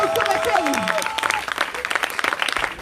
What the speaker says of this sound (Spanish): Dale un aplauso al Cristo de la gloria